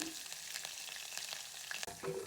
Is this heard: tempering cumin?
yes